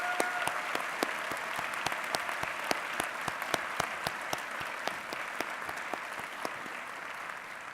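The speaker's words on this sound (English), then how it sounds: "Please join me in a round of applause for all of them" Large audience at a university presidential inauguration giving sustained applause, an even wash of many hands with sharper individual claps popping out, heard at a moderate distance and fairly quiet.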